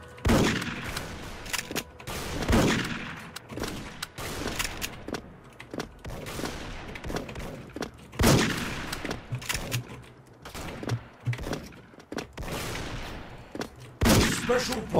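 Gunfire from the online shooter Special Force (SF) comes as repeated sharp shots and bursts through a match, some rapid and some single, with occasional talk in between.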